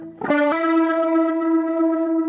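A sustained electric guitar note through a BOSS GT-1000 Core rotary speaker effect on the right side rings out swirling and modulated, bright and close, holding steadily for a couple of seconds.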